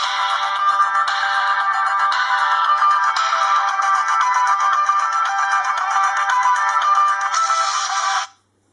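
A ringtone plays from an LG Optimus V phone speaker, a bright repeating melodic pattern heard loud and alone for about eight seconds before cutting off abruptly.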